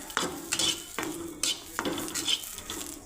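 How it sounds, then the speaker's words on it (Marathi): Grated coconut is roasted with onion in a pan, a utensil stirring and scraping in a few distinct strokes over a faint sizzle, close and moderately quiet, with no talk. "आता आपण याच्यामध्ये खोबरं घालू, खोबरंही भाजून घेऊ।"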